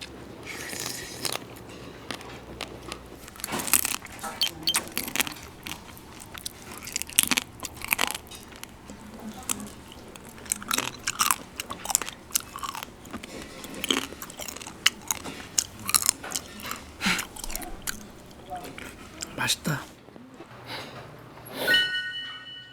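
Close, crunchy chewing of fresh raw blue crab mixed with seasoning, repeated wet bites and crackling of shell in an irregular rhythm, loud and near with no talk over it.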